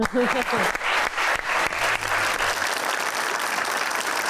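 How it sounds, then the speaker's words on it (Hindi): A studio audience on a live TV talk show claps in steady applause, with a voice audible briefly at the start. "सर, ये तालियां होनी चाहिए"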